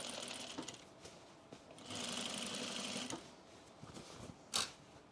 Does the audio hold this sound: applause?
no